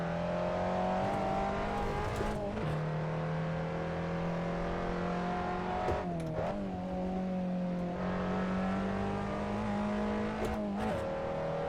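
A race car engine in the SRS racing game drones steadily near and loud, holding a high pitch with brief dips and recoveries during gear changes, with no voices over it.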